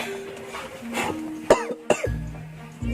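Two sharp, close coughs in quick succession, followed by a low hum and faint background sounds.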